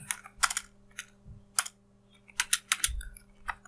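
Bursts of keystrokes on a computer keyboard while entering text in CorelDraw 9, clustered in quick clattering runs separated by short pauses, close and moderately loud with a faint steady hum underneath.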